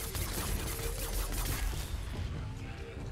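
Dense, continuous weapon blasts and booming impacts from a war pike in the video game Dauntless, loud and sustained throughout with heavy low-end rumble and clatter.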